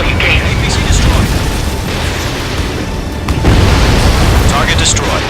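Booming explosions from a destroyed armored personnel carrier in the combat flight game Ace Combat 7: Skies Unknown, a continuous loud rumble with bursts near 1 and 3.4 seconds, under radio-style voices.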